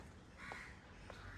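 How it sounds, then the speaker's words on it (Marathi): Two harsh crow caws, a few moments apart, ring out over a steady wash of outdoor background noise on the elevated forest nature trail at Malabar Hill, Mumbai. "पक्ष्यांचा तुम्हाला आवाज येत असतील वेगवेगळे."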